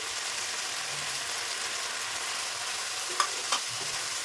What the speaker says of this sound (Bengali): সমস্ত মশলা দিয়ে সবজিটাকে খুব ভালো করে কষিয়ে নেব